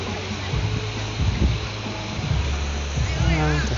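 Water rushes steadily through the Kaeng Ka Bao rapids around a raft sitting in the stream. A loud, continuous broadband roar fills the clip, and people talk over it.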